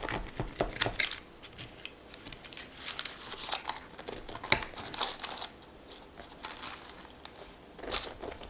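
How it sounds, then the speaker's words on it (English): A knife cutting into a homemade sourdough focaccia gives close, dry crackling and crunching of crust, with irregular scratchy bursts and a few sharper crackles, fairly quiet and with no talk. "It is time to cut into this glorious focaccia."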